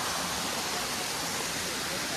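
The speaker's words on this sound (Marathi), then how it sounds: "इथे समोरच पाणी पडतो बघा मित्रांनो" Steady broadband rush of a waterfall along a rain-soaked monsoon trekking path to Bhimashankar, a continuous, fairly distant roar with no breaks and no voices over it.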